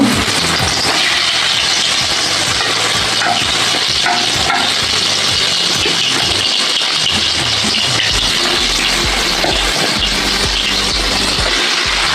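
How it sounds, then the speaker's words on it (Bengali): Boiled jackfruit pieces fry in hot oil with salt and turmeric, giving a loud, continuous sizzle with occasional stirring scrapes throughout. "এঁচোড়গুলো আমার ভাজা চলছে"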